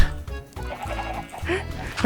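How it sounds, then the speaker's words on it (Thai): Chickens cluck in the video game Minecraft, with short repeated clucks in a busy mix of game sounds and a voice talking over them. "โอ้ไก่โอ้โหไก่บินลงมา"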